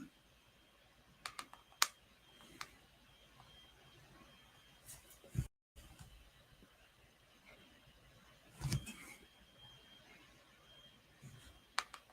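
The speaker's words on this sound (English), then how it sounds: "if I'm quiet, that's because I'm typing some stuff up" Scattered, faint clicks and taps from a computer keyboard, in sparse bursts with long quiet gaps in a hushed room.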